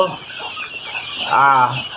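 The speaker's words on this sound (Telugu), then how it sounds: "సింహ కోడి పిల్లలు మంచిగా ఉన్నాయి" A one-month-old guinea fowl chick gives a short, high cheep near the end, after a stretch of soft, faint background noise.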